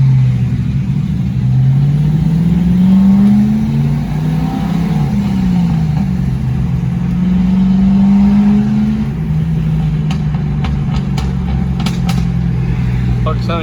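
A Briggs 206 flat kart engine fitted with shotgun exhaust pipes revs up and down in loud, rising and falling pulls on a dyno day, with a few sharp clicks near the end.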